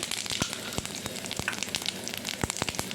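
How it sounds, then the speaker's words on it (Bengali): Dried red chillies and whole cumin seeds sizzle in hot oil as a tempering for a dahi baingan (yogurt eggplant) dish, a dense steady crackle with sharp pops scattered throughout, close and loud with no talking. "ফোড়নে দিয়ে দিলাম শুকনো লঙ্কা আর হচ্ছে গোটা জিরে"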